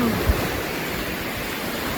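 Sea waves washing ashore on the Odesa coast on a drizzly, grey day, a steady broadband surf roar filling the whole stretch with no clear breaks and no voices.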